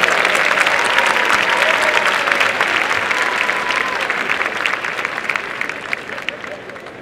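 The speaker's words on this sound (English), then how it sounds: "Let's give a big round of applause to our nuclear engineering grads of 2015." A large crowd at an engineering baccalaureate commencement applauds the nuclear engineering graduates of 2015 with dense, loud, sustained clapping and some cheering that tapers slightly over several seconds.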